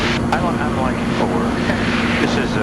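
A small aerobatic airplane drones steadily in flight with an engine hum heard from inside the cockpit, loud and continuous, with no clear break.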